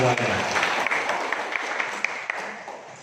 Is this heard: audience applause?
yes